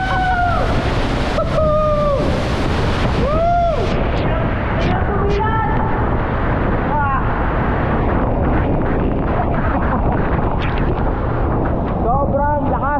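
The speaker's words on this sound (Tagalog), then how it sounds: "Ang lakas ng bagsak ng tubig dito." Water crashes down heavily at Pagsanjan Falls in Laguna, a loud continuous roar with strong wind gusting against the microphone, while voices shout and call out over the din.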